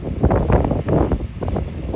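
Strong wind buffets the microphone at a rocket launch site, a loud, uneven roar with gusty surges that rise and fall throughout, with no voices.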